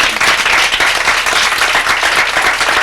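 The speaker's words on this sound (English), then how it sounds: "Let's give a big round of applause" A crowd applauds steadily, dense clapping filling the space for a few seconds without a pause.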